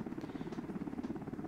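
An MH-60L Black Hawk helicopter in Arma 2 Operation Arrowhead, with a quiet, steady, rapid rotor thump pulsing continuously and evenly.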